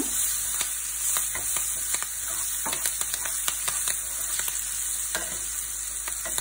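Green chilies frying in hot oil in a pan while being stirred, a steady close sizzle broken by repeated sharp scraping taps of the spoon, with no voices.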